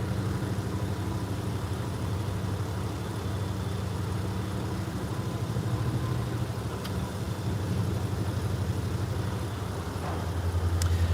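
Norfolk Southern freight locomotives idle nearby, a steady, throbbing low diesel drone with a constant mechanical hum that holds level throughout, no voices over it.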